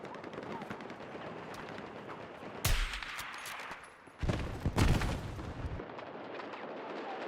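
Enemy machine gun fire in a first-person shooter: two loud, close bursts of rapid automatic fire, each lasting about a second or more, separated by quieter battlefield noise and distant shooting.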